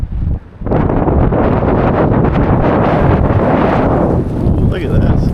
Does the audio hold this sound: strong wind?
yes